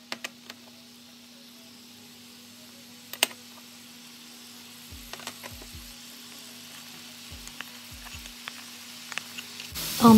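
Oil and onions sizzle quietly in a pan at the start of a Moroccan prune and meat tagine, a faint steady hiss over a low hum, with scattered ticks and a few dull knocks.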